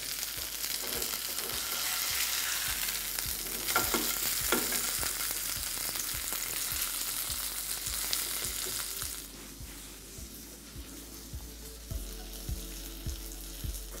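Pomfret fish fries in a non-stick pan with curry leaves and green chillies, a loud steady sizzle with periodic soft clicks of stirring, quieter toward the end.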